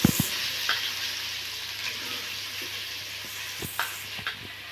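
Chopped shallots fry in a pan with a steady close sizzle, a few sharp stirring clacks and scrapes near the start and again toward the end.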